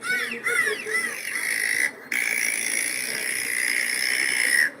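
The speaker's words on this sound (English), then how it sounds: "Let me find some good porpoise sounds." A porpoise sound effect is played back: squeaky rising chirps at the start give way to steady, high whistling tones over a noisy, crackling background. The sound is fairly loud, with one brief dropout partway through and no speech.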